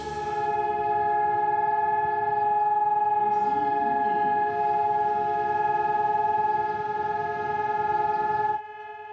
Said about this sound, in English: a siren sounds at 10 a.m.